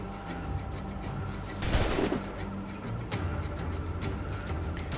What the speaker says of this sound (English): I suppose we should stop them from shooting people